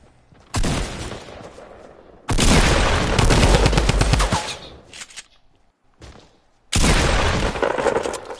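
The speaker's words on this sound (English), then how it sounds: "Well, I'm getting shot at." Gunfire in Fortnite Battle Royale, with loud bursts of rapid shots broken by short pauses and one long sustained volley, close and dominant, with no talk.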